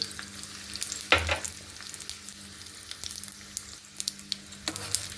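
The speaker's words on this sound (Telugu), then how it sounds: "నూనె బాగా హీట్ అయిపోయిందండి ఎల్లుల్లిపాయ వేసుకున్నాం ఎండుమిర్చి జీలకర్ర ఆవాలు శనగపప్పు అండి" Garlic, dry red chilies, cumin, mustard seeds and chana dal spluttering in hot oil for a cucumber tomato chutney tempering, with a continuous sizzle dotted with sharp pops and a couple of louder stirring scrapes.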